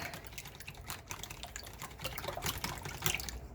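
A milk mixture pours over macaroni for homemade mac and cheese, giving a steady liquid splashing and trickling close by that swells slightly toward the end, heard alone.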